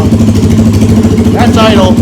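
A 1985 Honda ATC 200X three-wheeler idling nearby, a loud steady low engine throb with a rapid regular pulse, and a voice briefly speaking over it near the end.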